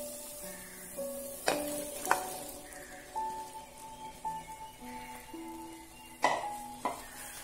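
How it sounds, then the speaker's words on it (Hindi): Cauliflower, peas and potatoes frying in spices for pulao, a steady soft sizzle with occasional sharp clinks of a spoon against the pan and a faint hum behind, no talking. "अब हम इसमें कटी हुई गोभी मटर और आलू डाल देते हैं।"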